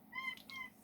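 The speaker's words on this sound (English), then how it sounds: "I'm sorry, that was my cat." A house cat gives a single short meow indoors, close and fairly soft, with a brief rising and falling tone.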